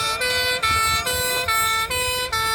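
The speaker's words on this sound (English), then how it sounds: "we have now got the emergency vehicles in the ring now" Emergency vehicle sirens sound in a county fair show ring, a loud steady electronic wail broken by short regular gaps in a repeating pattern, alone with no talk.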